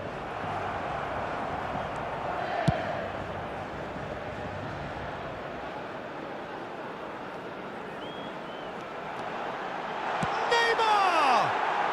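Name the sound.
football stadium crowd cheering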